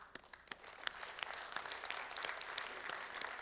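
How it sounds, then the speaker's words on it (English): Audience at a conference plenary session applauds, a faint but steady patter of many hands clapping with a few sharper individual claps standing out. "Please, a big applause to the two gentlemen."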